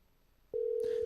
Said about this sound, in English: Still ringing, though.